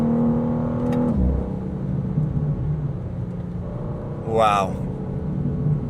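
A 2026 BMW M2 CS engine pulls at partial throttle on a curvy back road, a steady loud drone rising in pitch with a brief sharp whine midway, while a voice exclaims over it.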